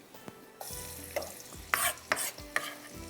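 Ginger and chicken frying in a pan, close sizzling broken by a series of sharp stirring scrapes and clatters of a utensil against the pan, with no talking.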